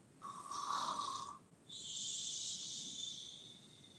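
A person imitates a loud snore during a children's yoga session: a wheezy, whistling breath in, a short pause, then a longer airy snore, with no talk.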